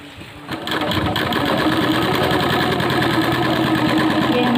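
Close, loud sewing machine stitching a thin folded fabric strip for a plazo pant trim, running at a steady, continuous hum after a short quiet start, with no voices.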